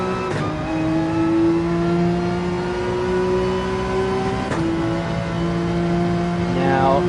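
A race car engine in Gran Turismo 7 at Laguna Seca holds a steady, loud, buzzing drone. The pitch shifts around a gear change midway, then revs climb quickly near the end.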